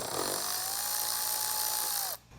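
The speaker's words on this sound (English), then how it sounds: "we're going to go ahead and take this 10mm bolt out" A power tool drives out a 10mm bolt on a 2022+ Toyota Tundra, a steady high whine running about two seconds before it cuts off abruptly, close and fairly quiet.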